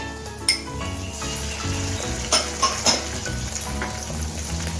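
Garlic paste and chilli paste hitting golden fried onion in a hot pan, a bright continuous sizzle with a few sharp utensil scrapes and clinks during stirring.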